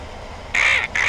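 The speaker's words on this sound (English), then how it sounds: "It's probably hard to hear me over the annoying vultures." Vultures attack in the video game Dune Raider, two harsh, loud, close caws in quick succession over a low background hum.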